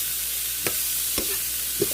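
Cauliflower stirred in a hot pan, a steady sizzle broken by three sharp scrapes of the utensil against the pan, close and alone without talk.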